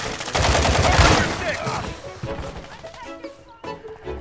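Rapid bursts of video game gunfire from a riot-shield match, loud and dense at first and then thinning into scattered shots, with a voice heard briefly over them.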